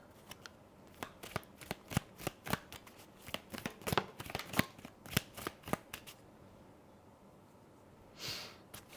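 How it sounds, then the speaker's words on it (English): Tarot card decks are shuffled and handled in a quick run of crisp, close riffling snaps, then a pause and a soft brushing rustle near the end. "I'm going to have to look through my tarot decks."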